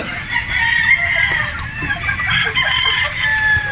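Young national-born hens (pullets) clucking in a hot, sandy pen, with a steady run of bright, close calls and chatter that carries on without a break.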